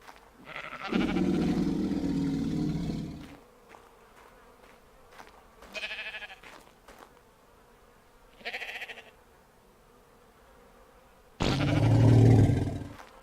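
Sheep bleat in the survival game ARK Extinction, several drawn-out bleats spaced across the stretch, separated by quiet gaps with a low background hum, no talk.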